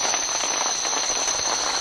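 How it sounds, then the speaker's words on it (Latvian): Rain falls at night in the Guatemalan jungle near Tintal, on the way to El Mirador: a steady, dense hiss of drops on foliage and surfaces, continuous and fairly loud, with no voices. "ārā līst lietus"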